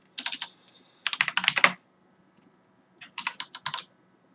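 Someone types on a computer keyboard in two quick bursts of close, crisp key clicks, with a pause of about a second between them. No one speaks.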